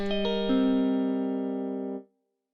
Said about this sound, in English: Play different rhythms so it kind of sounds like a guitar strumming.